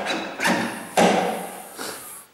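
Heavy clunks from a VW tailgate lock unlatching during a micro switch repair, three or four close dull thumps with a rattling plastic trim knock between them.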